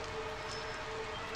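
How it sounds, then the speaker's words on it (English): Steady rainstorm hiss in a retro 8-bit to 64-bit era video game, a constant soft wash of rainfall with a faint tonal hum underneath, quiet and unbroken. "Look at these rain graphics"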